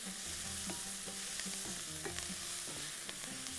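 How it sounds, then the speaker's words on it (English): Onions turning golden in a pan with whole spices (bay leaves, cinnamon, cloves, black pepper and cardamom) for a Bahraini dish, giving a soft, continuous sizzle with light scraping and stirring taps throughout. "I'm having these onions getting goldish."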